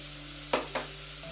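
Pork spareribs sautéing in a pan for caldereta, two short sizzling bursts of stirring over a steady low kitchen hum, close and brief.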